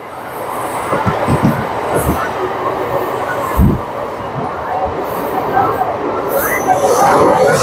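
A Sahebganj–Jamalpur EMU local train runs on a curved stretch of track, with a loud continuous rumble of wheels and carriages and occasional clanks and squeals throughout.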